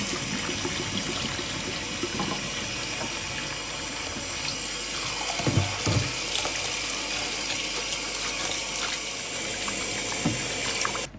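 Running tap water splashes into a sink while sprouted wheat grains are rinsed and drained for the third time, a steady close gush with a few louder sloshes midway and no talking.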